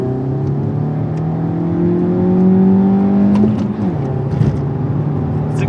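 A VW Golf MK6 1.4 TSI with stage 3 parts launches hard from a standstill in a 0-60 run, the engine droning up through first gear loud and close, with a brief dip and wheel hop before pulling on.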